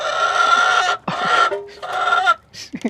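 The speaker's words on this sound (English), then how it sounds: "That's our loud chicken." A loud chicken clucks and squawks in long, insistent bursts, close by in a backyard chicken coop, with brief pauses between calls.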